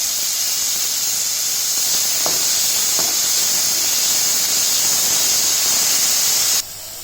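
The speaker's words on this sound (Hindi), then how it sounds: "अब हम इसमें बारीक कटी हुई प्याज डालेंगे।" Finely chopped onions sizzle in hot oil in a kadai that already holds whole spices: cumin, cinnamon and bay leaf. A loud, steady frying hiss runs throughout, with two faint clicks, then drops away abruptly at the end.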